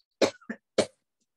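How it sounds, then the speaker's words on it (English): A person gives a few short coughs, two close together and then a third, alone in a quiet room during a yoga voice exercise. "we just give it a cough first"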